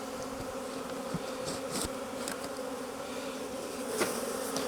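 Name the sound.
honey bees buzzing around a hive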